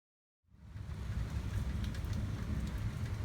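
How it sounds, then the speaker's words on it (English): Rain falls during a nighttime thunderstorm, fading in from silence to a steady, faint wash of hissing drops with a low rumbling undertone, continuous and with no voices. "Having a little thunderstorm tonight."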